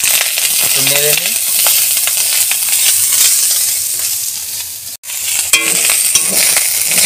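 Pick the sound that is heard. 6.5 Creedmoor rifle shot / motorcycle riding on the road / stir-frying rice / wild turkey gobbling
stir-frying rice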